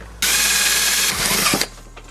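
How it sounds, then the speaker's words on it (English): A power drill bores holes through plastic motorcycle fender parts, a red piece and a white front mudguard of a WR250X. It gives a loud, steady, close whine for over a second, then a short rattling burst before stopping. "I'm just drilling the holes now that are going to go in the red bit"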